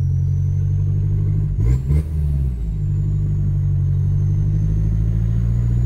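Turbocharged car engine pulling hard while driven with failed brakes, a loud, steady low drone heard from inside the cabin, with a brief shift in pitch partway through.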